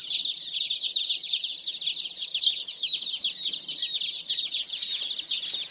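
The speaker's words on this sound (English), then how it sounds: "4 Brahman hens and 4 Brahman roosters." A group of Brahma chickens, hens and roosters fresh from a hatchery, keep up a dense, high chorus of peeps and chirps. The sound is close and continuous, with many birds calling at once.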